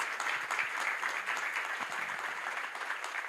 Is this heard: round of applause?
yes